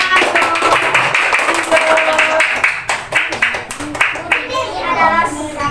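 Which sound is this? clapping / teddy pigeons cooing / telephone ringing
clapping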